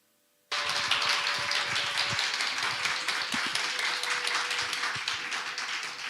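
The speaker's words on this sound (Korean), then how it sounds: "우리 큰 박수로 우리 할렐루야로 환영하도록 하겠습니다." A church congregation bursts into loud, sustained applause to welcome a visiting missionary pastor, a dense wash of many hands clapping that starts abruptly and continues steadily to the end.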